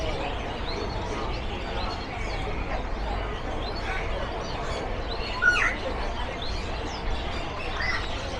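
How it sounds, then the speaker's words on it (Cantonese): Caged birds for sale as release birds at the Mong Kok bird market in Hong Kong chirp in scattered short tweets over a dense, busy crowd murmur, with people talking nearby. "呢啲叫放山鳥啊，功德無量30蚊隻啊"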